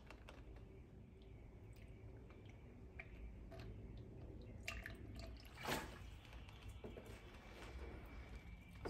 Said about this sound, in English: To avoid spilling, I'm going to use this funnel and I'm going to go slow about it.